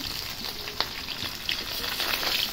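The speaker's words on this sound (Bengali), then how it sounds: "আমার মাছ ভাজাটা প্রায় হয়ে এলো" Rohu fish pieces fry in hot oil in a pan, giving a steady close hiss of sizzling with scattered small crackles and pops, moderately quiet and with no voices.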